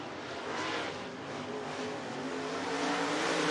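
Late model race cars roar around the Southern Oregon Speedway track in a heat race, a dense, continuous engine drone that swells slightly louder toward the end with no voices.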